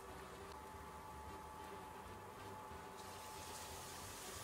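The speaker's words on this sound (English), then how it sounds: "Go ahead and add our 3/4 cup of water." Water poured into a bowl of seitan taco seasoning mix, a soft continuous trickling stream at close range, fairly quiet and steady for several seconds.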